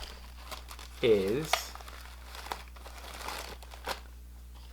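A plastic bag crinkles as a DualSense controller is unboxed, with a brief louder rustle burst near the start and softer crinkles after, while someone talks over it.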